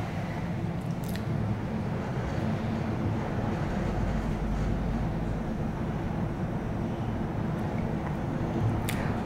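Otis Compass traction elevator ride in an office tower, a steady low hum and rumble of the moving car with faint clicks, continuous and even throughout.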